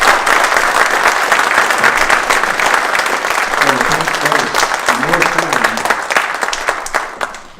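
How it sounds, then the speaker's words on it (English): Loud, sustained applause from a campus audience at a congressional town hall, dense clapping filling the room from start to finish with some voices and cheers mixed in, tapering only at the very end. "please join me in a loud round of applause for Congressman Walden"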